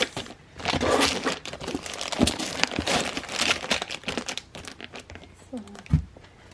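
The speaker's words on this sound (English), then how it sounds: "I think I'm going to put another tissue on that" Tissue paper crinkles and rustles steadily while a happy mail package of paper pads and sheets is being packed, with dense crackly bursts throughout and a brief voice near the end.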